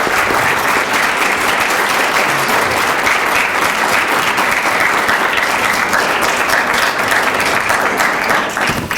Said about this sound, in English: One more round of applause for Seth